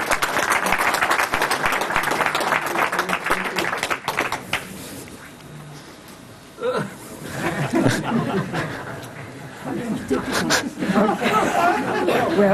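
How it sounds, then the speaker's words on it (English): An audience at a sanitation drive event applauds as a speaker comes to the podium, loud sustained clapping for several seconds that fades into a lull, then murmured chatter, chuckles and renewed clapping as people talk. "Give her a big applause."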